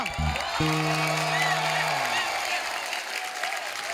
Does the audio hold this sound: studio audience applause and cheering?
yes